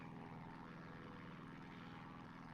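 A Christen Eagle II high-performance prop plane drones steadily in the DCS flight simulator over Nevada. The propeller engine hums low and even throughout, quiet but constant, with no talking.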